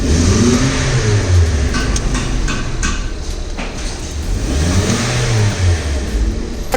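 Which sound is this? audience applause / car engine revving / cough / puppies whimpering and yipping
car engine revving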